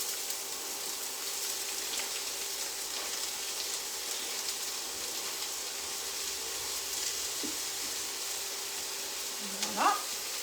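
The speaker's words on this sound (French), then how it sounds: "on va les faire revenir tranquillement jusqu'à ce qu'ils deviennent translucides" Leeks sizzling gently in a pan, a soft continuous frying hiss with a brief scrape of stirring near the end.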